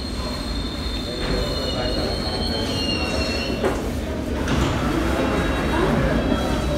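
A train rumbles steadily nearby in East Ham, its wheels squealing with high, sustained metallic tones over the continuous roar.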